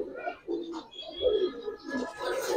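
A red dom male Giribaz pigeon, an Indian high-flyer type, coos close by in several rolling, throaty phrases that swell and fade in quick succession.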